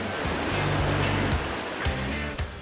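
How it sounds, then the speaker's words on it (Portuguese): Rushing river rapids during boia cross tubing in Turvo, Paraná: a steady, loud, broadband roar of churning whitewater fills the whole stretch, close and continuous, with a few brief surging splashes and a faint low tonal hum underneath. "Boias na água e começamos a descer as corredeiras"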